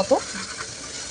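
Ginger and garlic paste fries in oil with a soft, steady sizzle and a brief stirring scrape at the start.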